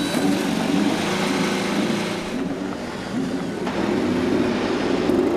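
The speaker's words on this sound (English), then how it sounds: "Drivers, start your engines." Race car engines fire up at the Honda Indy Toronto street race in a continuous, loud buzzing drone of many motors idling and revving together, holding steady with only slight dips in intensity.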